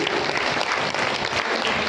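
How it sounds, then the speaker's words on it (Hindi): Steady, dense applause from a crowd, continuous and fairly loud throughout. "ऐसे भाई जी के लिए भी जोरदार ताली बजाएं।"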